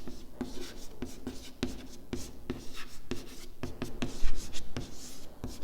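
A pen writes equations by hand, giving steady scratchy strokes and regular sharp taps on paper, close up and continuous.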